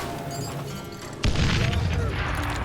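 A single loud booming gunshot in the Western shooter Call of Juarez: Gunslinger, striking sharply midway and followed by a ringing tail over ongoing game sound.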